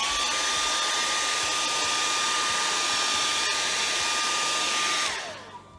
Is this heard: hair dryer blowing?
yes